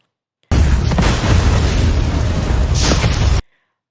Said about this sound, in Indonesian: Lalu Doji dengan cepat mempersiapkan jebakan Batman yaitu berupa ledakan. Pabrik pun hancur lebur